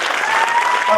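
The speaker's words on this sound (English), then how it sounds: "Loud applause, please" Members at a Toastmasters meeting give a loud, continuous round of applause for the general evaluator returning to the stage, with a voice faintly mixed in.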